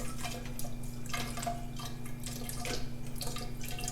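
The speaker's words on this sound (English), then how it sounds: "now I need to use the distilled water to rinse out the rest of it here" Distilled water rinsing soil out of a container during a sieve analysis and hydrometer test, a continuous splashing trickle with irregular drips and gurgles, close and steady with no talk.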